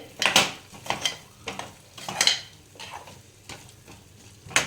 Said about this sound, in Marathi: मसाले घालून झाल्यावरती आपण हे कांदे ह्याच्यामध्ये घालणार आहोत सगळे छान एकत्र पत परतून घ्यायचे